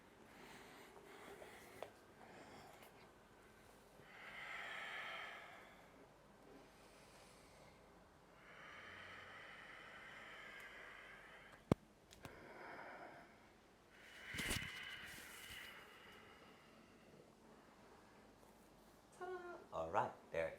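Quiet, close breaths come in several soft bursts during an aerial compression jump-through exercise, separated by near-silence, with a brief knock or click partway through.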